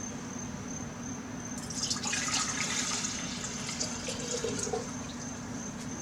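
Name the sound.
pouring diluted gold refining solution into a beaker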